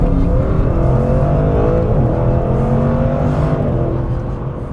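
Audi RS6 estate with 621 brake horsepower accelerating hard in a straight line, a loud continuous engine roar rising steadily in pitch, heard from inside the car.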